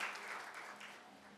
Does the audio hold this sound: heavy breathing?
no